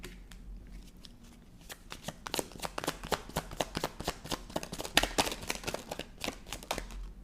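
A deck of cards is shuffled close by in a steady run of crisp riffles and rustles that grow busier and louder partway through, with no speech.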